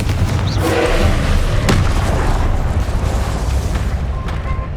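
A Confringo spell explosion in Hogwarts Legacy gives a loud, booming blast with a dense rumble that slowly fades out, and one sharp crack partway through.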